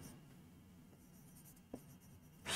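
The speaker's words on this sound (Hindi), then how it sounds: "अब लिखेंगे एमएस धोनी इज" Marker or chalk writing on a board during an English grammar lesson, heard as faint scratchy strokes over a quiet room hum, with a short louder stroke near the end.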